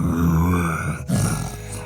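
A human voice imitates a monster's breathing, giving a loud, close, rasping growl-like exhale, a brief break, then a second guttural, groaning breath.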